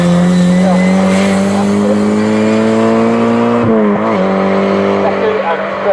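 MG Metro race cars from the MGCC Metro Cup race at Snetterton drone loudly past, with steady engine notes shifting in pitch and a brief dip around the middle, while a commentator talks throughout.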